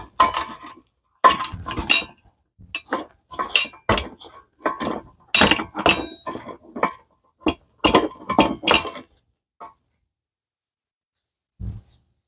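Metal pot stands come off a vintage Optimus 8R camping stove in a string of sharp clinks and rattles, close and dry, in bursts before a brief quiet and one last tap.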